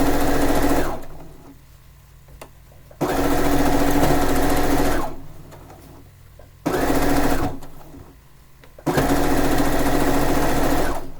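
A sewing machine stitching quilt pieces for a fishing-themed quilt runs in three or four loud, steady bursts of several seconds each, broken by short quiet pauses, with no talking over it.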